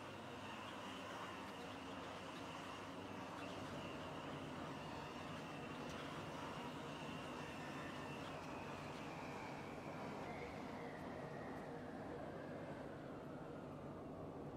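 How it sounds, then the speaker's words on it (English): A train pulls into a station platform in the Roblox game Stepford County Railway, giving a faint, steady rolling rumble with a long high whine that slowly falls in pitch as it arrives. "The train now approaching platform 5 terminates here."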